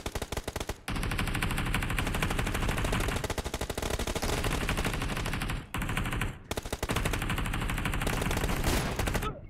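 Sustained rapid automatic gunfire rattles almost without pause, loud and close, broken by a couple of brief gaps before resuming, in a PUBG Mobile team deathmatch.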